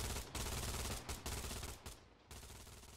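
Bursts of machine gun fire in the video game Hell Let Loose, loud rapid rattling in several long volleys separated by brief pauses.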